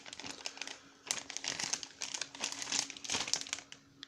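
A plastic parcel bag mailed from China is handled and opened up close, its crinkling coming in quick, uneven bursts of sharp rustling between brief pauses.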